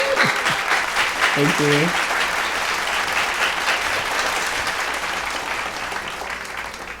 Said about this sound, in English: Let's give Tenecia another round of applause.